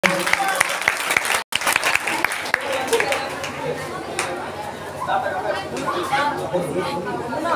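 A school audience applauds to welcome a singer, dense clapping spreading through the hall with overlapping chatter and voices, steady and loud for several seconds.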